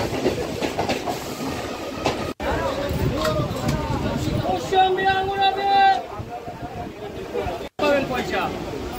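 A Kolkata Circular Rail commuter train running through the city, with steady rolling rumble and clatter throughout and a brief wheel squeal midway, while people talk nearby inside the carriage.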